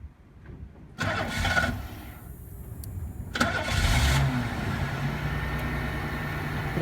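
A 1994 Buick Regal engine cranks and fires up after a fuel filter change, with a quiet lead-in, a short starter whir, then a catch and rise into a steady close idle.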